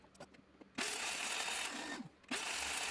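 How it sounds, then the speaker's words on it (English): A miter saw set up for trenching cuts wood in two sustained loud whining, grinding passes with a short pause between, preceded by a few light mechanical clicks. "Just going backwards and forwards with the saw there, so it makes a half cut all the way through"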